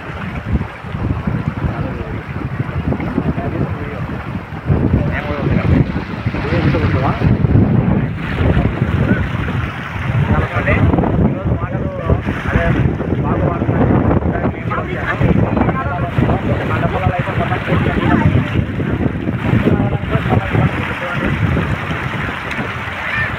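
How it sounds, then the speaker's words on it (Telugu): An overflowing stream rushing hard after heavy rain, a loud churning roar of floodwater close to the microphone, buffeted by wind gusts, continuous throughout with no speech. "ఎంత ఉధృతిగా వాటర్ అనేది ఎంత ఉధృతిగా పారుతుందో చూడండి"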